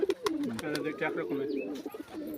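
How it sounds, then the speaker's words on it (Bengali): A Teddy breed pigeon coos softly in short, throaty bursts, close by, with some light background noise. "এই দেখো এই পায়রাটা টেডি পায়রা"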